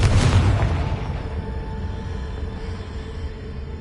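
Confringo fire spell exploding in the Hogwarts Legacy video game, a sudden booming burst up front that fades into a rumbling, crackling decay.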